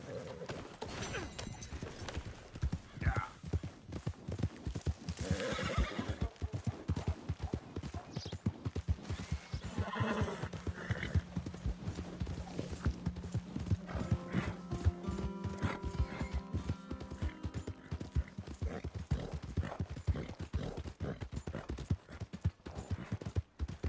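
Steady, rapid hoofbeats of a galloping horse in Red Dead Redemption 2 clatter on without pause, with brief neighing mixed into the busy game soundscape.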